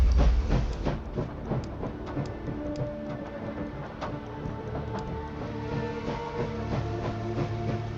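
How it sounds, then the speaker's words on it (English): A steam locomotive starts up in the video game Last Train Home, with a heavy low rumble and hiss, repeated clanking and chuffing bursts, and mechanical tones building steadily, loud and continuous throughout. "I really love the sound of the train starting in this game."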